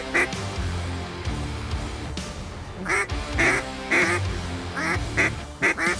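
Ducks quack repeatedly in short bursts during a winter waterfowl hunt in Ohio, fairly close and loud against a rumbling outdoor background, with several calls clustered in the second half.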